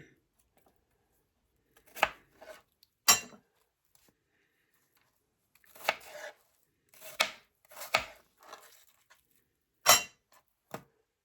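A knife chops apples on a cutting board for a Waldorf salad, giving about ten sharp, separate cuts in uneven bursts with quiet gaps between them, close and alone.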